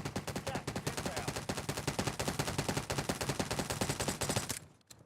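Rapid gunfire from a gun in a video game, a fast continuous stream of evenly spaced shots for several seconds, loud and close, cutting off abruptly near the end with no talking.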